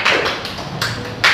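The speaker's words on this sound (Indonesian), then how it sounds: "Tepuk tangan buat temennya bertiga." A classroom of students clapping for three classmates, short bursts of hand claps and taps coming in a few quick clusters.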